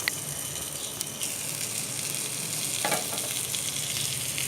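Tandoori chicken pieces fry in butter in a covered pan, giving a steady, close sizzling hiss that holds evenly throughout with a few faint clicks.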